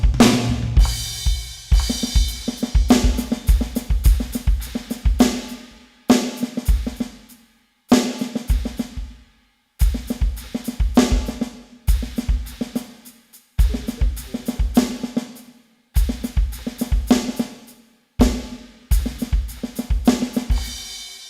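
Drum kit playing a fill and then a matching groove, repeated in short phrases separated by brief pauses, punchy kick and snare hits with cymbal wash, close and loud.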